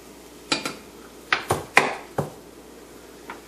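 Utensil stirring onion and spices in a pan, a handful of sharp scraping clacks spaced irregularly over a few seconds, fairly faint and without talk.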